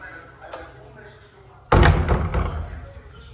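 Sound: door slamming

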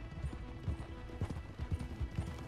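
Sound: horses in video game Red Dead Redemption 2

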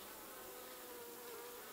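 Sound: honey bees in a hive

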